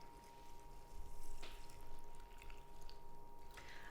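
Liquid is poured into an overnight oats mixture of oats soaking for breakfast, a faint, soft trickling and splashing with a couple of small clinks, heard close with no talk.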